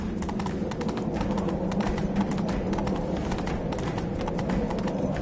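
Horse hooves gallop in the video game Witcher 3, giving a close, rapid and continuous run of clip-clop beats that stays loud and even throughout, with faint game sounds underneath.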